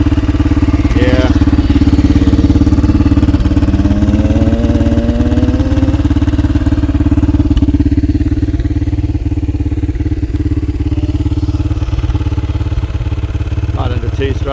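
1990 Honda XR250R four-stroke dirt bike engine running in a New Zealand forest, a loud steady thumping idle with brief revs, close by, with people talking over it.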